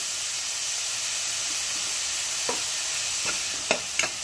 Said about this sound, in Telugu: ఇలా చక్కగా ఫ్రై చేసేసుకోవాలి.